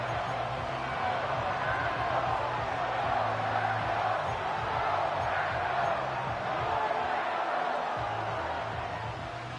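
Football stadium crowd roaring before third and goal in a Green Bay versus Washington game, a dense, sustained wall of cheering and shouting with a continuous low rumble underneath, heard alone without commentary.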